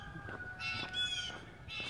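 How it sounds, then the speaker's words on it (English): Birds call faintly in a rural Harleysville, Pennsylvania neighborhood near a farm, with a few short, harsh call notes repeating over quiet outdoor ambience. "some of the birds are a little loud here."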